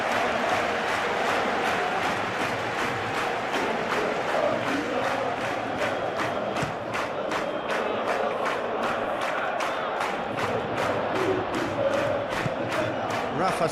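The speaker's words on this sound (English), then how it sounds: "it's applause all around us here" Continuous stadium crowd noise with applause and cheering during a simulated Benfica vs Real Madrid Champions League match in PES 21, loud and steady throughout, with faint commentary underneath.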